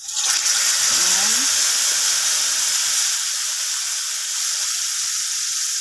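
Chopped onion and garlic hit hot oil in a small frying pan, bursting into a loud, close, sustained sizzle that settles into a steady hissing sauté.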